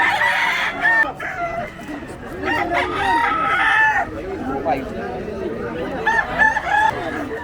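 Chickens, including a fighting-cock hen, cluck and crow close by in a noisy pet market, with people talking in the background throughout.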